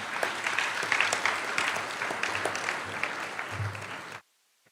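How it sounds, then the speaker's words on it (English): A large audience at a Florida Bar convention general assembly applauds steadily for about four seconds, a dense even clatter of clapping that stops abruptly into silence. "let's give them a round of applause."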